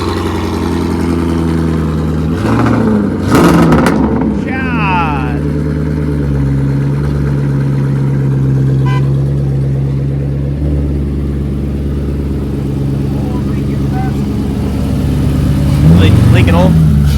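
A totaled Ford Mustang GT engine idles roughly with a deep, steady rumble and a few short revs, close and loud, while people talk and exclaim over it.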